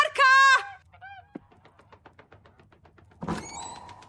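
A goose in a Slovak radio play gives a loud burst of nasal honks, then softer calls and a series of faint rhythmic clicks, before a harsh squawking outburst at the end.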